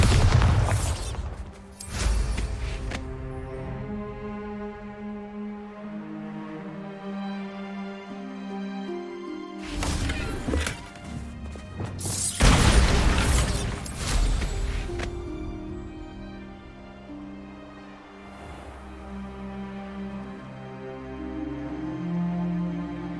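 Heavy booming blasts of the Bombarda explosion spell in Hogwarts Legacy, a few separate loud bursts spaced several seconds apart, each followed by ringing, crumbling debris and a lingering musical tail.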